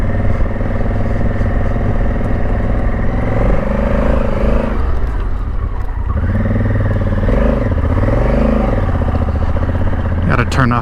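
Honda Africa Twin adventure motorcycle ridden on a road, its engine droning loud and steady throughout with shifting pitch as it slows and picks up speed, wind rush over the top and a brief clatter near the end.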